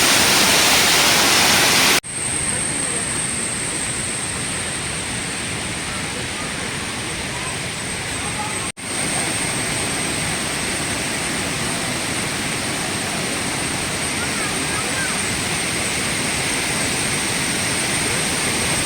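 Thusharagiri waterfall in Wayanad, Kerala roars as a loud, unbroken broadband rush, heard up close and steady throughout, with two brief cuts in the flow of sound.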